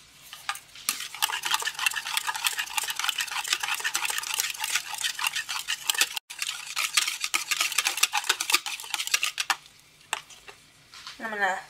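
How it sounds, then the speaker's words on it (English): A whisk beats egg yolks with lemon juice and vanilla in a bowl, making a fast, steady clatter of wire against the bowl that runs nearly throughout, with a brief pause midway and a softer tail at the end. "In this bowl I have my egg yolks, and then I'm going to add my lemon juice and my vanilla. And then I'm going to whisk this together."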